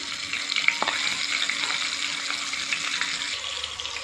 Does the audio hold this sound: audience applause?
no